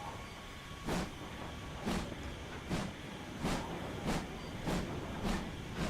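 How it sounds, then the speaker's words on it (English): A GWR train in Train Simulator rolls along with a regular clickety-clack. Rhythmic wheel thumps over rail joints come about once a second over a quiet running rumble, and no one speaks. "it sounds like we've got a train this time"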